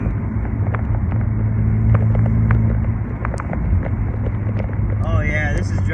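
A BMW E36 drives along in a steady, loud engine and road drone with low rumble heard from inside the car, while a person talks over it.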